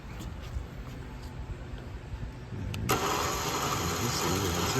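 A trailer winch engages and starts running partway through, a sudden shift from quiet background to a steady, loud motor drone that continues to the end.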